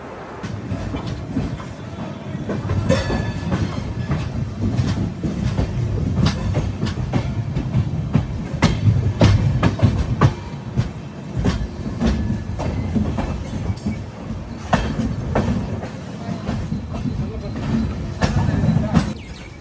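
The Amrit Bharat Express runs on its inaugural Nagercoil–Hyderabad journey, a continuous rolling rumble of wheels on rails with scattered sharp clicks and clatters, heard close with faint voices in the background.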